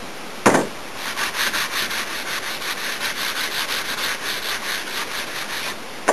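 Sandpaper rubs burrs off a wooden boat coaming in steady, rapid back-and-forth strokes, close and fairly loud, with a sharp knock near the start and another at the very end.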